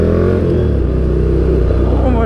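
Ducati Nightshift motorcycle fitted with an ORION exhaust: a loud, deep, steady engine rumble recorded close by, filling the short clip with throbbing low-pitched exhaust noise.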